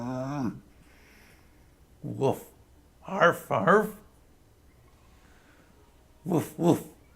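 A human voice imitates a dog barking in short woof-like bursts, a few isolated barks followed by paired ones, close and clear with quiet gaps between.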